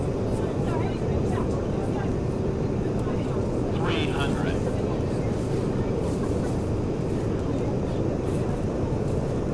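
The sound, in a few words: Boeing 737-200 flying in X-Plane 11 flight simulator video game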